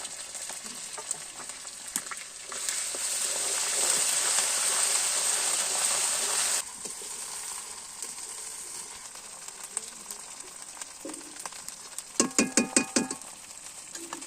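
Meat hits a hot pan coated with crushed garlic and chili paste and fries in a loud, steady sizzle, which settles to a softer crackle broken by a few sharp scraping knocks near the end.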